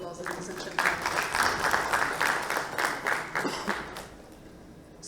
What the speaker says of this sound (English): And can we have a big round of applause,